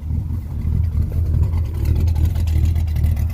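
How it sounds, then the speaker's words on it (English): A 1967 Dodge Charger's 383 big block V8 gives a deep, steady engine rumble with a low throaty exhaust drone, loud and close, holding fairly constant throughout. "love that exhaust note"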